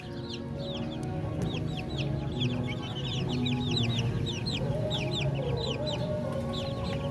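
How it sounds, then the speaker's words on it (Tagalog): Young chicks (Darag and native Filipino chicks) cheeping and clucking continuously in a pen, many overlapping high chirps over a steady low background hum. "hindi po makalaki na maayos yung iba nating mga sisiw nag-aagaw-agawan po sila sa pagkain so kaya lipat natin dito yan"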